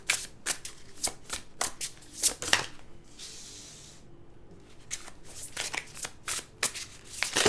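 Tarot cards being shuffled by hand, a rapid series of crisp riffling bursts with a short pause midway, close and clear with no talking.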